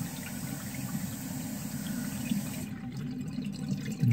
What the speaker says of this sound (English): And there's the full siphon.